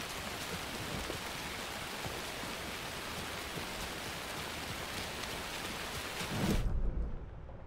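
Heavy rain hisses steadily in the video game Alan Wake 2, with a low rumble of thunder swelling near the end before the downpour cuts off abruptly.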